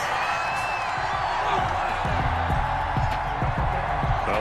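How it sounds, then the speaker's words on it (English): A stadium crowd in a Madden NFL football video game reacts to a roughing-the-passer penalty call with a loud sustained roar, a steady dense wash of booing and shouting with some rhythmic accents. "Well, this crowd does not like that call. Understandable reaction from them."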